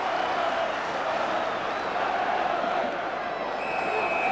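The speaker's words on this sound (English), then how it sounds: "the whistle is greeted by the home crowd as though victory had already been" A home football crowd at an F.A. Cup fifth-round replay between Southampton and Bolton Wanderers roars steadily at the final whistle, a dense sustained cheer with a whistle tone near the end.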